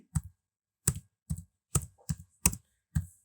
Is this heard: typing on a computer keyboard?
yes